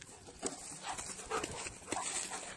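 A six-year-old dog pants and snuffles close by in quick, uneven bursts over faint rustling and movement, with no one speaking.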